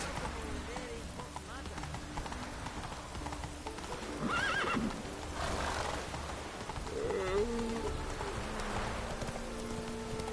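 Roach the horse gallops in The Witcher 3, hooves clip-clopping steadily under rain and ambient game sound, with a couple of whinnies and voices speaking over it.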